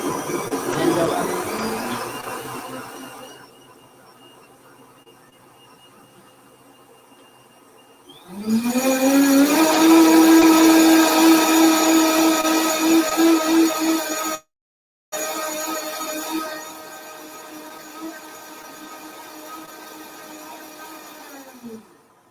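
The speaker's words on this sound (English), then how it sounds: "this is a Vitamix, and everything purees really smooth in 90 seconds" A Vitamix blender purees creamy broccoli soup, starting on low with a quieter whir, then ramping up to a loud high-speed roar that pitches upward and holds steady, stopping briefly before restarting and slowly winding down.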